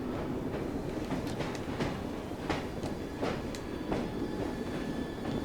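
A train ride in the video game Assassin's Creed Syndicate: a continuous rolling rumble of rail cars with periodic clicks and clacks of wheels over track joints, steady and moderately quiet.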